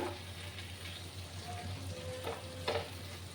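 Potatoes and fish roe being dry-fried in a pan give a steady, quiet sizzle with occasional soft stirring scrapes and light clicks.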